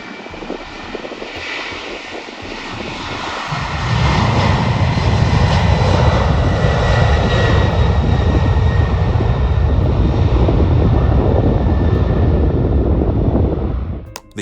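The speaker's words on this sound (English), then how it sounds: "military transport plane took off too slowly" A large propeller military transport plane roars loudly and steadily for a long stretch during takeoff, its engine drone swelling as it powers up and holding until cutting off abruptly.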